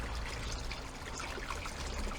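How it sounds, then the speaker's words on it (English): Water trickles and pours steadily into a koi viewing bowl by a UK koi pond, a soft continuous splashing dribble heard up close with no talking. "I just put a little bit more water in the bowl."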